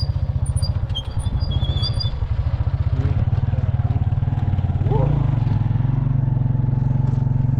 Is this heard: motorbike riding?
yes